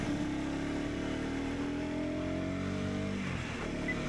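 A motorcycle rides along a ridge-top hill road in Nepal: a steady, close engine drone with shifting pitch, easing off toward the end.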